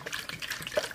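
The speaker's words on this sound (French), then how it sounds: "Donc de l'eau du robinet tiède." Lukewarm tap water pours steadily into a bowl for bread dough, a continuous close splashing gush with no talk over it.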